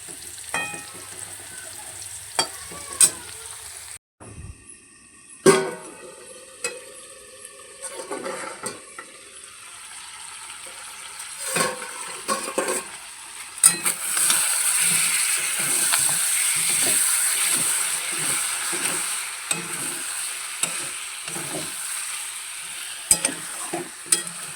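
Potatoes frying in oil for a meat curry: a close sizzle that swells to a steady hiss, broken by repeated scraping stirs and utensil clacks, with a brief quiet gap early on.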